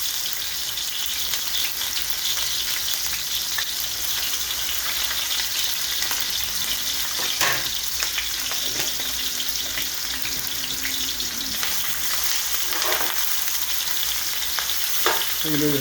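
Onion and garlic sizzle steadily in hot oil for a home-cooked duck curry meal, a continuous close crackling hiss with occasional stirring scrapes and brief splashes, no voices.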